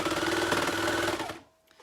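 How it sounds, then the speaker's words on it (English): A sewing machine stitches the inner leg seam of men's boxers in a rapid, steady mechanical whir, loud and close, before stopping abruptly near the end. "I'm going to lie one piece on top of the other and sew the inner leg together."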